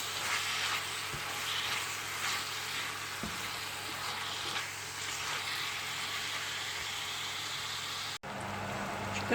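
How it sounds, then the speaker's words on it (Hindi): Chopped chicken sizzles steadily in a pan over a high flame, a loud continuous frying hiss with occasional stirring clinks and no talking. "और इसमें चिकन को फ्राई करूँगी और 3-4 मिनट तक ये अच्छा सा फ्राई हो जाएगा"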